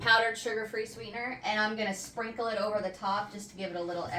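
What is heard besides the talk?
No distinct noise like a dog, phone or traffic.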